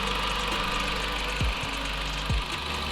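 The engine of a 2016 Dodge Journey SX idles steadily with a low, even rumble while its coolant system is bled, with a couple of brief low thumps and no talking.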